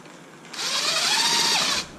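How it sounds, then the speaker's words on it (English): A short burst of a power drill whirring up and spinning for about a second while tightening a bolt on an XMAXX 8S RC truck, close and fairly loud, then stopping. "you could use your electric drill"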